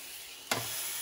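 A filet steak sizzles in a frying pan, a soft steady hiss that flares suddenly into a louder burst of frying midway and then keeps crackling quietly.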